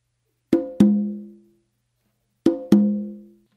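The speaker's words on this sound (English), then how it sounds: "that landing between the conga and the tumba," A samba landing on conga and tumba: two quick ringing open tones struck together, a pause, then the same pair again, each tone sustaining and fading, close and clear without voices.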